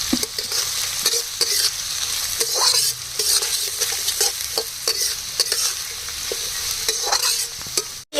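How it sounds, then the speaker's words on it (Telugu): Green chillies and spring onion stir-fried for fried rice, a steady close sizzle with repeated spatula scrapes and clinks against the pan throughout, no voices. "ఇది కొంచెం ఇలా వేగిన తర్వాత పచ్చిమిర్చి అలాగే కొంచెం స్ప్రింగ్ ఆనియన్ కూడా వేసుకోవాలి."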